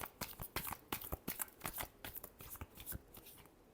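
Tarot cards being shuffled by hand, a close series of crisp riffling snaps and soft flutters in an irregular quick rhythm, with no voices.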